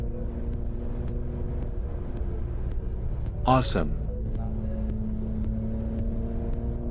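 Nissan Skyline GT-R V-Spec R34 engine rumbling steadily and close by, a deep idle that swells briefly partway through while a voice exclaims over it.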